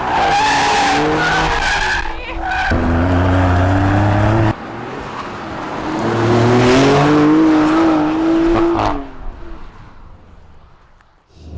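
A Maserati Grecale Trofeo, a 530 hp sporty SUV, pushes through a fast lap in manual mode with stability control off, its loud engine rising and dropping through gear changes as the tires squeal and skid between bursts.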